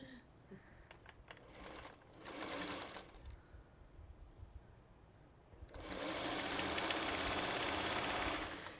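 A sewing machine stitches quilt pieces for a 3-yard quilt, with short runs early on, then a longer steady whir near the end, faint and at a moderate distance.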